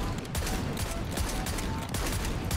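Shotgun slugs firing in Modern Warfare 3 Zombies, a loud series of heavy booming shots in quick succession, several blasts packed into a couple of seconds with mechanical clatter between them.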